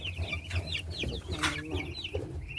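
Chickens clucking while eating, several birds close by giving repeated short clucks and chirps over a low background rumble, with a faint voice briefly in the mix.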